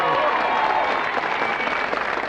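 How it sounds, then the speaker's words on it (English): A studio audience at a Children in Need charity event applauds a cheque presentation, a loud, dense burst of clapping filling the short moment. "Round of applause for that."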